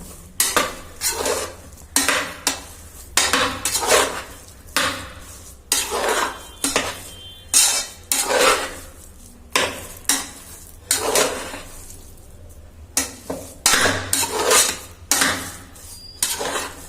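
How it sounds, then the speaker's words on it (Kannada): A metal spoon scrapes and clanks repeatedly against a pot of vangi bath (spiced brinjal rice) in a steady stirring rhythm, close and fairly loud, with no talking. "ಈಗ 5 ನಿಮಿಷ ಮಸಾಲೆನ ಚೆನ್ನಾಗಿ ಮಿಕ್ಸ್ ಮಾಡಿ ಕೊಡೋಣ"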